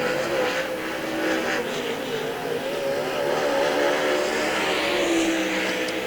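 Sprint cars circling the dirt oval at Hagerstown Speedway during a qualifying session, engines droning steadily and loudly throughout with a rising pitch near the end.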